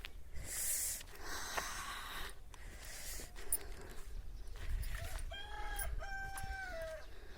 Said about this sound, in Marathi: आमचे कोंबडे पहाटे पाच वाजल्यापासून ओरडत असतात